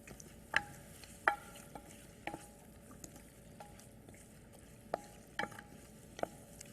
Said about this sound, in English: Give it one final stir.